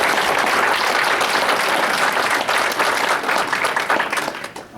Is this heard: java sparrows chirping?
no